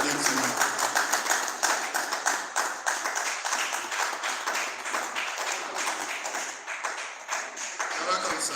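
Conference audience breaking into a steady, dense round of applause, many hands clapping at once, close and sustained throughout with no break.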